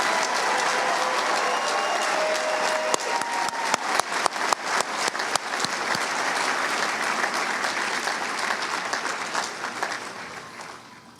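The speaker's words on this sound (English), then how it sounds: "Ladies and gentlemen, please join me in applauding this great class" A graduation ceremony audience at Gulf Coast State College applauds the graduating class, broad sustained clapping from a large crowd with a run of sharp, close individual claps in the middle before the applause tapers off.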